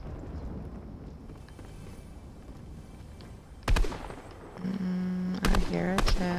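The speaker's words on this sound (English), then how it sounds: "Somebody's trying to shoot at me." Gunfire in Fortnite, a few sharp cracking shots in quick bursts against a busy game background with a steady tone, no talk.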